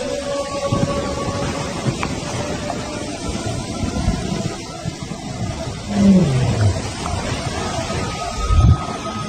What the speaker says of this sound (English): An unfamiliar roar. Nomads from upriver.